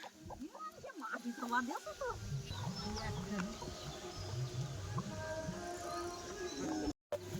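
Hens cluck and chirp in a coop throughout, a mix of short calls and softer murmurs heard at moderate distance, with a person's voice present among them.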